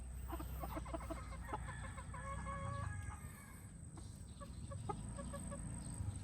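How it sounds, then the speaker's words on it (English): Several chickens cluck and squawk close by in short repeated bursts inside an enclosure in the Philippines, with a rooster crowing among them over a steady background hum. "I moved all the chickens into the enclosure together."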